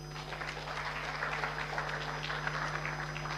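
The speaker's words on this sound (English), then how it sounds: "That deserves a round of applause." Audience applause at an entrepreneurship programme event, a moderately faint, even spread of clapping under a steady electrical hum, lasting a few seconds with no talk.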